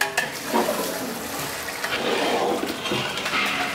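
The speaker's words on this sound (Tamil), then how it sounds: "அதுக்கப்புறமா நம்ம தண்ணி போட்டுக்கணும். தண்ணி போடுப்பா." Water, 6.25 litres, pours into a large pot for mushroom biryani, a steady rushing splash with some clanking of the pot, fairly close and without talk.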